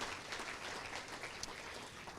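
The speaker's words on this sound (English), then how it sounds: "So round of applause for our wonderful foundation." Faint, steady applause from an audience at a school district awards gala, honoring the district's school foundation; dense, even clapping throughout with no voices.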